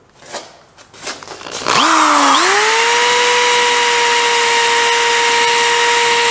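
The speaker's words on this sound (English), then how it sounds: "you can shape the whole thing using a drill" A power drill shaping a wooden hammer handle blank winds up abruptly after a few soft handling knocks, then holds a loud, steady, close whine with a slight pitch dip as it bites into the wood.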